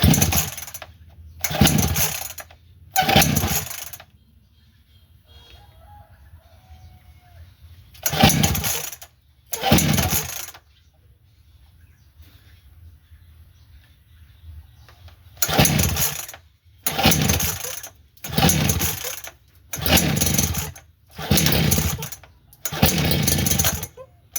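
A two-stroke RBC-411 brush cutter being pull-started: nine sharp, loud bursts of the starter cord and sputtering engine come in two groups, three then two, a long quiet gap, then a steady run of six, with no talk.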